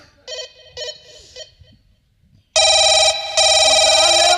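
A telephone rings loudly in two bursts with a short gap between, following a few fainter ringing bursts and low background noise.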